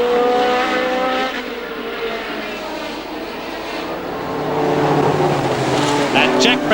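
1970 Formula One British Grand Prix cars whine and drone past with rising and falling pitch while a commentator talks over them.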